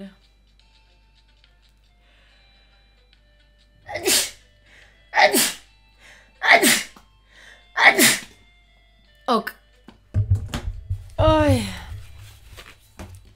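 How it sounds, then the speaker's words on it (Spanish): A sneeze from a man playing the video game Nexomon, a loud single burst after several sharp, breathy inhalations spaced about a second apart, with a low background hum underneath. "voy a estornudar, chicos"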